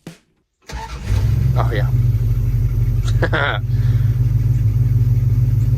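An old Dodge truck, back on the road after sitting parked for about ten years, cranks briefly and catches, then settles into a loud, steady low rumbling idle close by, with a short spoken exclamation over it.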